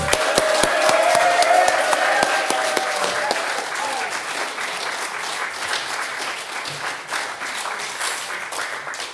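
An audience at a folk music festival in Frome claps and cheers to welcome a singer to the stage, loud crisp applause at first that thins out gradually, with a few voices and whoops mixed in.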